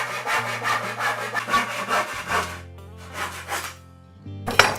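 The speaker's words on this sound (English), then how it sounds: "I'm just going to use a hand saw because this is a really simple project" Hand saw cutting through wood boards for a rustic sign, a close, steady series of rasping back-and-forth strokes that stop, followed by a brief pause and a final scrape.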